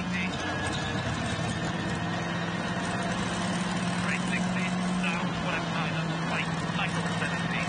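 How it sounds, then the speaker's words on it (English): A rally car at WRC Croatia Rally pulls into a stop control, its engine idling and burbling close by under a steady drone, while someone talks over it. "We'll have a look at the car as it pulls into the stop control."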